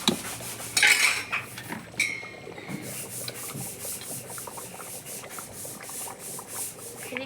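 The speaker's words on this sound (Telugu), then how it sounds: "లాస్ట్ ఉడికినాక కొబ్బరి పొడి, మసాలా, గరం మసాలా. ఒకసారి మళ్ళా కలుపుకోవాలి." A utensil scrapes and rubs around a pot as curry is stirred with coconut powder and garam masala. Gritty strokes and metallic clinks come close and repeat in an uneven rhythm, with no one speaking.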